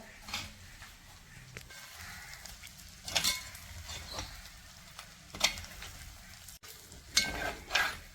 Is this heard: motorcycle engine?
no